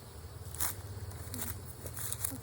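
Honeybees hum around an open backyard hive during an inspection, a low steady drone close by with a few brief louder passes and faint handling noises, no talk.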